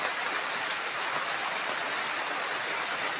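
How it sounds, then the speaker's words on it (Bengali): Steady evening rain pours down at half past five, a dense, even hiss of drops on surfaces that stays constant and fairly loud throughout with no voices. "সোমবার 5:30 বৃষ্টি হচ্ছে শুরু, সন্ধ্যা সন্ধ্যা ভাব"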